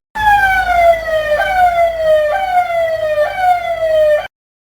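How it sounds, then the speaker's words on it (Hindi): A loud police siren wails outdoors in a repeating falling-and-rising pattern, about four cycles in steady succession, with no voices over it, then cuts off abruptly. "तभी बाहर पुलिस का तेज सायरन बजता है।"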